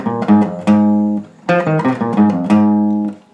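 An acoustic guitar plays a slow passage, clear plucked notes ringing in three phrases with brief pauses between.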